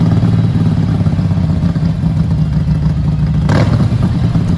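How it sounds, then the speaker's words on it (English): A Ducati L-twin motorcycle engine idles close by with a steady, lumpy potato-potato firing rhythm, loud and continuous, with a brief rise in clatter near the end. "This creates the potato, potato, potato sound as the engine fires twice and then rests momentarily before firing again"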